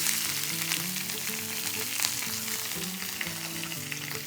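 Shallots and curry leaves frying in sesame oil in a pan, a steady close sizzle and crackle running throughout with no talking.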